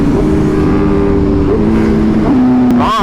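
A brand new Ducati V4 motorcycle races at high speed, its engine screaming in a loud, steady high-rev drone that shifts pitch slightly, with a sharp upward rev at the end and rushing wind noise throughout.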